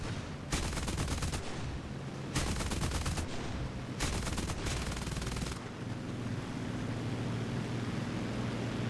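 Aircraft machine guns fire in long loud bursts in a video game, several rattling volleys separated by short pauses, with constant engine drone underneath.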